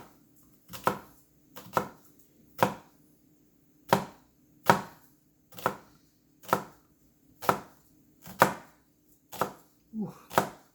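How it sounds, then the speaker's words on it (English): A knife cuts through an onion on a cutting board in about a dozen crisp, evenly spaced chops, close and distinct, with quiet pauses between strokes. "Now I'm going to go across this way and make little slices almost all the way up."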